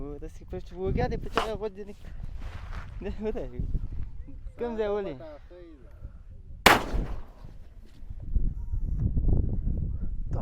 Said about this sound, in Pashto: دا غږ چې تاسو واورېدو دا دومره قوي شی ده دغه شي ډز ده